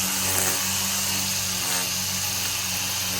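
Lawn trimmer running close by during lawn care, a continuous loud buzzing whine holding steady throughout with no talk.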